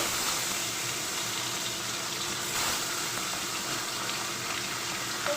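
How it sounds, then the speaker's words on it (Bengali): Fish frying in hot oil, a dense, even hiss of sizzling that holds steady and close the whole time. "এবারে মাছগুলো ভেজে নেব"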